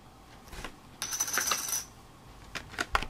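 A coin from a Pokemon trading card theme deck dropped onto a surface, giving several light metallic clinks and a brief ringing bounce, close and fairly quiet.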